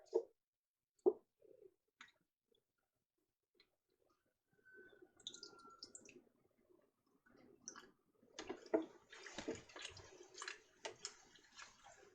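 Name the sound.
water poured into glass canning jars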